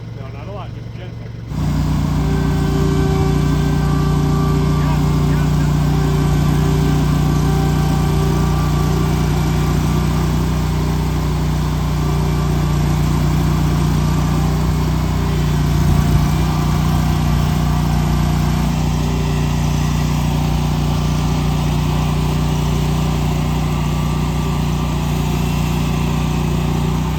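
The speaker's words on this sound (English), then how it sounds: "So we're gonna try to get it out with the tractor." A tractor engine runs steadily at low revs with a strong, constant drone while trying to tow a lawnmower out of mud on a Georgia homestead, close and loud throughout, with brief throttle swells and occasional voices over it.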